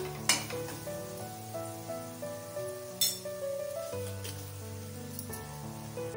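Turmeric and red chili powder sautéing in a pan for a Maharashtrian ground-dal pithla, with a steady close sizzle, scraping stirs and a few sharp utensil clinks against a hum of kitchen background.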